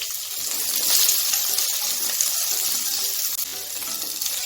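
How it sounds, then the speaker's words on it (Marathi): Sliced onions hit hot oil with cumin, a bright steady sizzle and crackle of frying filling the pan for several seconds, close and continuous with no talk. "जिरं झाल्यानंतर लगेच कांदे घालूया कट केलेले"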